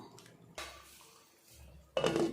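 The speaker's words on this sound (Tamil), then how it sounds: "மூடி வச்சிடலாம், அப்படியே வேகட்டும்." A metal lid clanks onto a pot of boiling egg gravy twice, close by, with a quiet pause between the two clatters.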